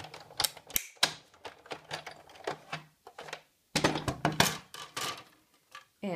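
Die-cutting machine cranked with a standard cutting pad for a Christmas card, giving a run of close, sharp clacking and ratcheting bursts with brief pauses, loud and alone without talk.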